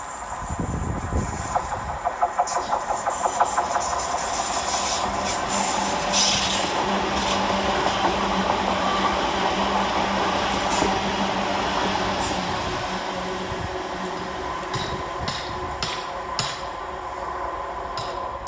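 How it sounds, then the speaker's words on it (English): A London Northwestern Railway Class 350 electric multiple unit, running from Crewe to Birmingham New Street, passes through Smethwick station with a sustained rolling rumble, rhythmic wheel clicks over rail joints and a sharp metallic squeal near the end. "Right behind him for London Northwestern Railway is 350-260, working 2 Golf 52 from Crewe to Birmingham New Street."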